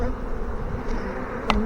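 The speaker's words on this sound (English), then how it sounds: "That's a lot of bees." Dense buzzing of a honey bee swarm being installed into a hive, a steady close drone with one brief sharper burst near the end.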